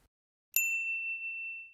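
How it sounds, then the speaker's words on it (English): A single bright bell strike, metallic and clear, ringing out and slowly decaying over about a second after a brief silence. "Everyone is shouting for the bells to be rung."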